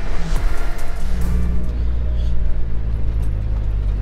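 A Jeep crawls along the rocky four-wheel-drive Hole in the Rock trail, a heavy, low engine and drivetrain rumble mixed with rattling and jostling noise, loud and continuous.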